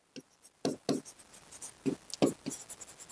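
Writing on a board during a coordinate geometry lesson: short scratchy strokes and taps in quick irregular bursts, close by, as a teacher speaks over them.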